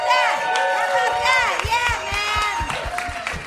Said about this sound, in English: how about a round of applause for Christine Blackburn, everybody?